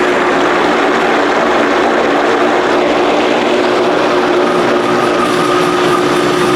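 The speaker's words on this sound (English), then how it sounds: "put it in our blender. Turn this up." A blender whirs loudly and steadily, blending freeze-dried eggs, a dense motor roar with a constant high-pitched whine running throughout.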